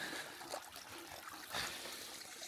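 Water trickles and drips from the rocky spring at the source of the Danube, a faint, close, continuous dribble with small splashes.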